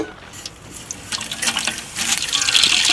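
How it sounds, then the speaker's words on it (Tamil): Ghee poured into a pan while making gravy for a layered quail biryani, a soft liquid trickle and splash growing steadily louder over a few seconds, with no talk. "நெய் ஊற்றிக்கலாம்"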